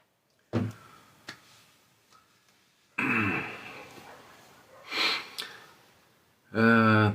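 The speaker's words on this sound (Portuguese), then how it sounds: "E eu aqui com a minha tosse." A few throat clears and short coughs, separated by quiet gaps, close to the listener, with a brief voiced sound at the end.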